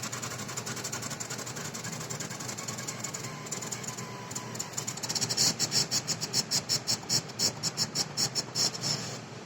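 A Sipart PS2 positioner calibrates a spring-loaded valve actuator, giving a steady mechanical whir that turns into a fast run of loud, rhythmic pulsing bursts partway through.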